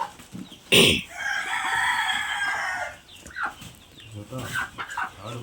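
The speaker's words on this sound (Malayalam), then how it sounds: "ഈ സൈഡ് തള്ളയും കുഞ്ഞും ആ സൈഡ് ഫായമ്മും" A hen with her chicks clucks and calls in a short, bright burst, followed by a run of sustained fowl vocalizations and scattered softer clucks, fairly close and without speech.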